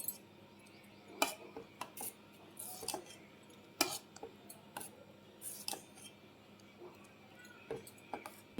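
A spoon clinks and scrapes against a pot while boiled milk oats are stirred on a switched-off stove: quiet, irregular metallic taps and scrapes against a soft background.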